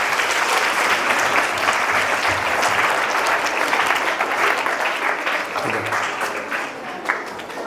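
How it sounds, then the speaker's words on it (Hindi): Audience at a school award ceremony applauding steadily, a dense, loud wash of clapping that continues for several seconds and thins slightly toward the end. "मंतसा आफ्ताब के लिए एक बार जोरदार ताली हो जाए"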